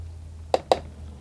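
Two small splashes of water-laden watercolour paint hitting paper, close and soft, spaced about a fifth of a second apart over a quiet background hum.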